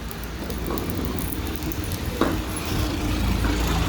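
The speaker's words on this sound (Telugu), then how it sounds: "వర్షం పడుతుంది చూడండి." Rain falls outdoors as a soft steady hiss with scattered drips, moderately close and unbroken, without voices.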